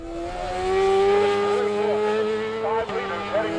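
Five-liter race cars pass on a track, their engines giving a loud steady drone with a rising and falling pitch as they go by. A brief dip comes near the end.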